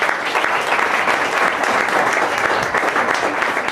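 A church congregation applauds and cheers in a dense, steady, loud roar of clapping that never lets up.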